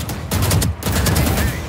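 Rapid, loud gunfire from an online multiplayer shooter video game played on Paris servers, a dense run of overlapping shots with a brief gap just before the middle, then sustained fire to the end, no voices.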